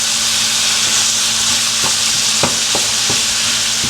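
Ground beef for a homemade lasagna fries on high heat with a steady loud sizzle, broken by a few soft scrapes and knocks of stirring.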